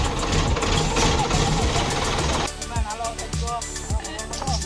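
A tractor engine runs while the tractor is being loaded, giving a dense, steady rumble that drops slightly midway and then continues with rhythmic knocking thuds.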